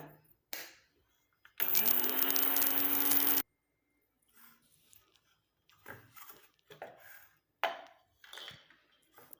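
A mixer grinder whirs loudly for about two seconds, grinding curry leaves into powder, then stops; quieter kitchen clinks and handling sounds follow.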